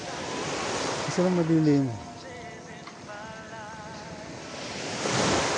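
Sea waves wash steadily onto a shore at night in Bicol, a broad rushing surf that swells again near the end, while someone speaks briefly over it.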